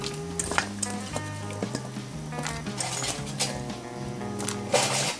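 Carrot and daikon radish simmer in a pot of vegetarian mixed vegetable soup with tofu, a soft continuous bubbling sizzle beneath louder background music.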